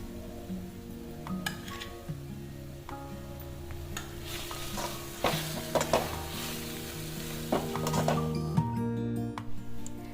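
Spice mix stirred into olive pickle cooking in a pan, with a steady sizzle, scraping stir strokes and occasional utensil clinks against the pot, no talk.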